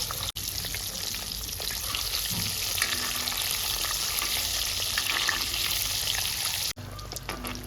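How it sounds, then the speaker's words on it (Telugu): Eggs fry in hot oil on a medium flame, giving a steady, dense sizzle that carries on almost unbroken, with faint scraping from stirring in the pan. "మీడియం ఫ్లేమ్లో పెట్టుకొని బాగా ఫ్రై చేసుకోవాలండి"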